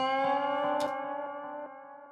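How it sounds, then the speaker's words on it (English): Electric lead guitar sustaining a distorted note with reverb and an echoing delay, a bright single pick attack partway through and a smooth tail that slowly fades, with no voices. "in addition to the lead guitar being sent out to the reverb, it's also being sent out to an H delay"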